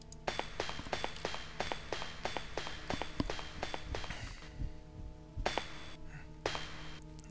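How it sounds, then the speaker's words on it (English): Footsteps in the retro adventure game Chronomaster, a loud, steady run of sharp taps in quick regular rhythm, pausing briefly before a few more steps, with no voices. "you really regret they have put in footstep sounds"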